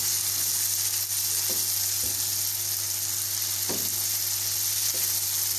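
Okra stirred into frying masala for stuffed masala bhindi, giving a steady low hiss of frying under a constant hum, with a few soft scrapes of the spoon scattered through.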